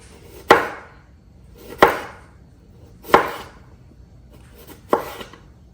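A knife chopping cabbage and cucumber finely on a board, four sharp, distinct chops spaced about a second apart, each a crisp close thunk followed by brief quiet, with no voices.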